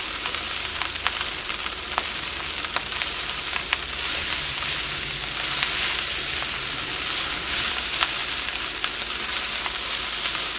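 Chicken fried rice stir-fried over a large burner on high flame, a steady loud sizzle and hiss with faint scraping stirs running continuously throughout.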